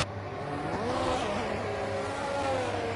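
Onboard engine of a race car at a pre-season test session in Abu Dhabi, a continuous loud whine with shifting pitch as revs rise and fall over about three seconds.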